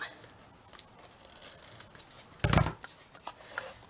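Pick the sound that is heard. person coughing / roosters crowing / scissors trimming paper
scissors trimming paper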